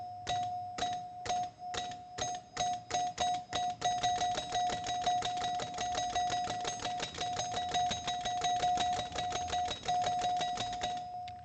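Electromechanical pinball score reels stepping in a rapid, steady run of clicks, each struck with a sustained bell chime ringing near and loud, the mechanical ticks and rings repeating evenly for the whole stretch.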